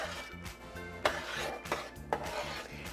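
A spoon stirs meat sauce for spaghetti in a pot, giving soft scraping and rubbing with a few sharper knocks against the pot, close and fairly quiet.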